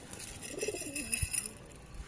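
Pigeons in a cage, a male and a red female, give low throaty coos in a short rolling phrase, close and clear over faint background noise.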